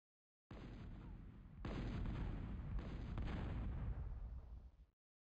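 Long-range artillery fire from intimidator units in a real-time strategy video game: heavy overlapping booms roll into a sustained, thundering barrage that holds loud for several seconds before cutting off.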